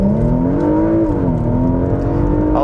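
A Porsche Macan Turbo engine in Sports Plus mode gives a steady, throaty drone with a gently rising and dipping pitch, heard from inside the cabin, close and continuous.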